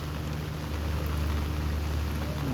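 Rain falls in a steady, moderate patter with a low hum running beneath it, fairly close and with no talking.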